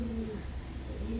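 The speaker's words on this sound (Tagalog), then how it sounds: "ibon ni Kuya Noel" A pigeon or dove coos in low, soft, repeated notes outdoors along a road in Elk Grove, California, audible over steady background noise for about a second.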